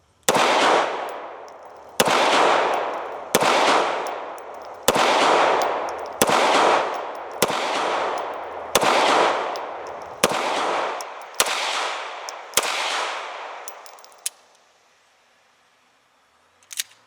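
An ATI 1911 pistol chambered in 9mm fires about eleven sharp, loud shots at an outdoor range, spaced roughly a second apart, each with a short decaying echo before a final quiet stretch.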